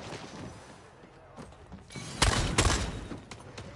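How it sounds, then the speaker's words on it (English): Gunfire in the online vampire shooter Vampire: The Masquerade – Bloodhunt, a few sharp loud shots bursting in close together over a steady background of game ambience, with no talk. "You're being shot at."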